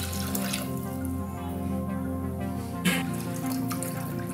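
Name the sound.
water being poured into a cooking pot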